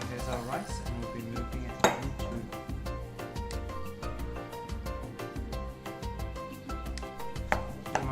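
Cooked rice is moved into a Thermomix bowl, bringing repeated close clinks and scrapes of dishes and utensils against the bowl, a busy string of sharp knocks.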